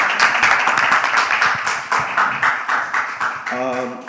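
An audience claps in a loud, continuous burst of applause, with a voice starting to speak near the end.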